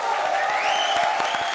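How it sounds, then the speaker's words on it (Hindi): Studio audience applauding on a Hindi comedy show's grand finale, a steady dense wash of clapping that holds at full strength throughout, with a faint voice underneath. "तो इसी दादी के लिए जोरदार तालियां"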